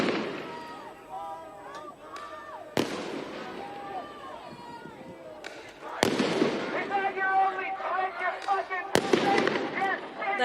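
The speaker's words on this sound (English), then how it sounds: "the ones who are here now seem to have got used to the sensation of hearing those flashbangs above" Flashbang devices go off at a pro-Palestinian campus protest at UCLA, as several sharp loud bangs ring out over crowd shouting and whistles, with a reporter speaking between the blasts.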